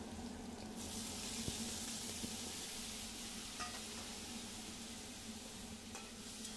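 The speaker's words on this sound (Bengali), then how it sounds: "এবার আমি রাখা মশলাটা ঢেলে দেব" Potato and pointed gourd pieces fry in a pan as spices go in, giving a steady, fairly quiet hiss of sizzling oil with a few faint clinks of utensils and no speech.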